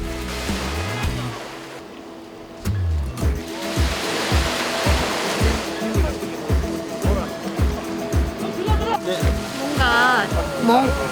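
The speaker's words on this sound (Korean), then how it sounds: "이젠 파도 소리를 들으며 바다에 몸을 맡기고" Steady rushing ocean water with rhythmic low sloshing pulses, waves lapping against something close by out at sea, continuous throughout with a brief dip early on.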